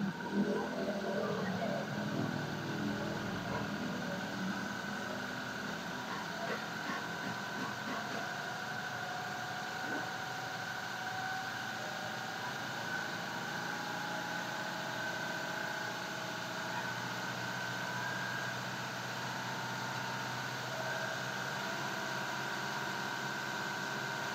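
A Toyota 2GD diesel engine in a Fortuner or Hilux Revo during fuel-system purging, running steadily near idle with a gentle, even rev and a constant mechanical hum throughout.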